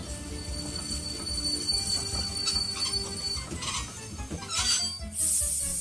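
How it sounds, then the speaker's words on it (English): A train rolls along the rails at moderate loudness with a steady low rumble, thin squealing wheel tones running through it and a brief hiss near the end. "Percy could take the train the other direction to Knapford"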